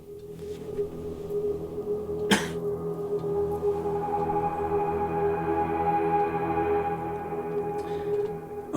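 Hydra, an atmospheric pad from the Terrastrate sample library, swells as a dark, sustained drone with layered resonant tones, a sharp transient hit early on, and a slow, steady build, alone without voices.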